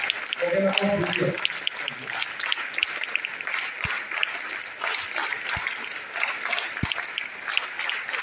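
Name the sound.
audience standing and applauding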